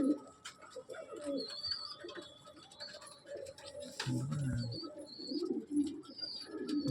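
Breeder pigeons coo in a loft: repeated low, throaty coos come in soft rolling bursts, close by, with faint higher chirps and tweets scattered in the background.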